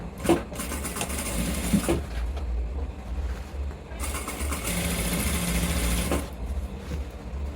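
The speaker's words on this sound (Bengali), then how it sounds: "সেলাই দিই হাই থেকে একটা চাপ সেলাই দিয়ে দিই তাতে মজবুত হয় খুব" Electric sewing machine running a reinforcing seam at the waist of a pair of trousers: two long bursts of fast, even mechanical whirring with a pause between, loud and close, no voices.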